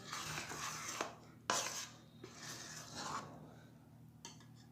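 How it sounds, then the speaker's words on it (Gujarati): Hot mohanthal, a traditional Gujarati sweet, is scraped from a kadai and spread onto a plate, giving quiet scraping and rubbing strokes with a few sharp metallic clinks, close and faint. "હવે આને આપણે એક પ્લેટમાં ઠારી દઈશું"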